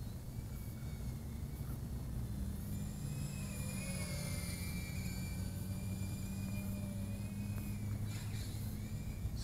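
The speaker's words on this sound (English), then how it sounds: "It is a fast drone." Beta 75X brushless 2S whoop FPV drone flying, a steady high-pitched whir of its small motors with wavering tones as it speeds around, continuous and moderately distant.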